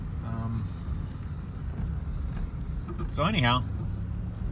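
A silver 2008 Chevrolet Impala LT driving gives a steady low road and engine rumble throughout, with someone talking briefly over it from inside the car.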